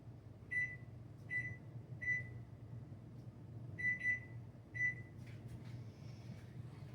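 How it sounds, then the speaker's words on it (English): A microwave oven's keypad gives several short electronic beeps in uneven succession as it is set to cook rice, over a low, steady mechanical hum, followed by a brief soft rustle. "I'm going to set the microwave for the rice"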